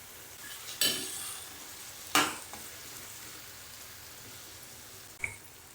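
Tomato and onion-garlic masala is stir-fried in a pan, with three distinct scraping stirs, two close together early and one later, over a faint, steady sizzle.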